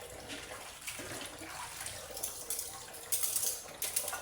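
A kitchen tap runs weakly with low water pressure, giving a thin, steady trickle and splash that stays soft and close, with faint clinks of dishes in the background and no talking.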